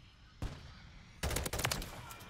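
M16 rifle fire in Modern Warfare 3 gameplay: a single sharp shot, then a dense rattling burst of rapid gunfire that trails into a softer echo.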